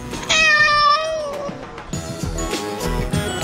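A cat meows in a drawn-out, wavering cry near the start, followed by further noisy sounds and shorter vocal bursts.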